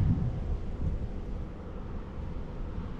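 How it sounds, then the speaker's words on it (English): Strong wind blowing across an open golf course, a steady low rumbling roar buffeting the microphone throughout without letup. "There's a lot of wind."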